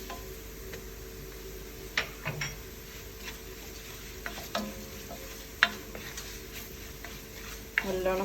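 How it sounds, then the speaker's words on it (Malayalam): Chili powder and turmeric fry with reddened onions in a pan for Onam kurukku kalan, giving a quiet continuous sizzle punctuated by sharp spoon taps and scrapes against the pan. "അപ്പം മുളക് പൊടി ഇവിടെ നന്നായിട്ട് മൂത്തിട്ടുണ്ട്."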